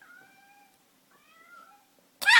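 A cat gives two drawn-out meows, soft and close, separated by a brief pause, followed by a short loud burst at the end.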